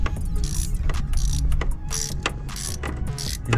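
A ratchet with socket tightening bolts on a BMW water pump, quick bursts of clicking ratchet strokes repeated in short runs, close up with no voices.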